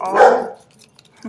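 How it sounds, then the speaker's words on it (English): A dog barks indoors at something outside on a snowy day, one loud close bark burst that trails off, followed by quiet room noise and a faint final yip. "barking at, I'm sure, a leaf outside or a piece of snow."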